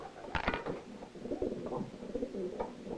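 Racing pigeon cooing at its loft, soft low murmuring coos repeating over several seconds, fairly close and alone with no talk.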